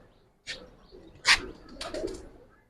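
Giribaz pigeons give a few short, close coos and throaty bursts at uneven intervals, with a brief scuffling noise between calls.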